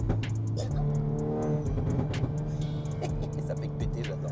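A Volkswagen Golf 8R with a turbocharged engine accelerates hard, its exhaust crackling and popping in sharp bursts over a steady engine roar, with someone talking throughout.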